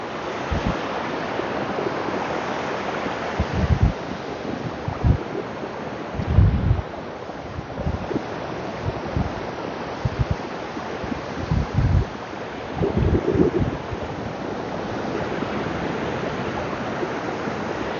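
Atlantic Ocean waves breaking on shore at sunrise, a continuous rushing surf with periodic heavier crashes and wind buffeting the microphone, loud and close with no talk.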